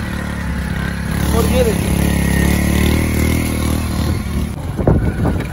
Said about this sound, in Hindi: एक हाथ के साथ बाइक चलाई जा रही है